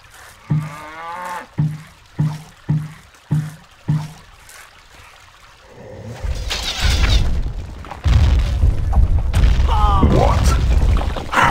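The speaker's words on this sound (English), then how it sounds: "Their granary has been destroyed!" An enemy granary collapses in the Stronghold: Legends strategy game, a deep rumbling crash and rush of debris building after a series of evenly spaced mooing calls, loud and sustained to the end.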